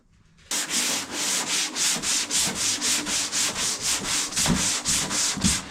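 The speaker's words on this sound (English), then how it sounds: "I've been sanding away at this one" Steady rhythmic sanding of body filler on a BMW E36 car body, about a dozen back-and-forth strokes with an abrasive hiss, close and continuous, with no talking.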